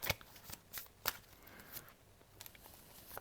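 Tarot cards being shuffled by hand, soft papery riffles and flicks in short bursts, close and fairly quiet, with no voice over them.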